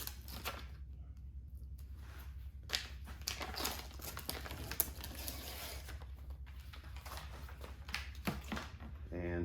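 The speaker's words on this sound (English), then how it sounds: "You just peel the backing off of it." Adhesive backing is peeled off a sound-deadening sheet for a BMW K1600B subwoofer install, giving a series of close crinkling, tearing crackles in irregular bursts over a low steady hum.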